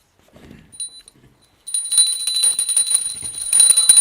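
A small hand bell rung steadily during the Aratrikam lamp offering, a bright sustained ringing with clear high overtones that begins after a brief pause and continues to the end, preceded by faint soft movement.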